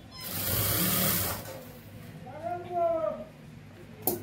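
Sewing machine running a line of stitching on a cross pocket with piping, a steady mechanical whir for about a second, then quieter handling with a voice speaking briefly.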